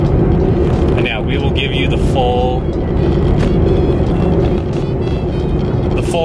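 A car driving on the road, heard from inside as a steady, loud road and engine rumble that runs throughout, with a person talking over it.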